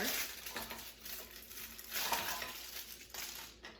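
Crisp snapping and crackling of a chocolate bar being broken into small pieces by hand, a few close bursts with short pauses between them.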